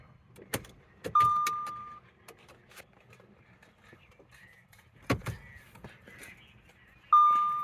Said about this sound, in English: What we're going to do right now is just turn off the car.